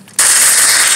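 Gunfire in a squad match of a shooting video game, a sudden loud burst of rapid automatic shots that starts after a brief quiet moment and carries on without letup.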